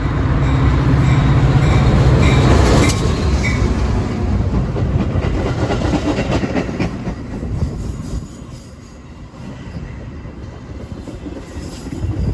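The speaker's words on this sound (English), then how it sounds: "saw some trains coming in and out of Chicago" Metra commuter trains on the Union Pacific lines at Clybourn, Chicago, rumble loudly and steadily close by, with wheel noise and a brief high squeal early on, then ease to a lower, continuing roll.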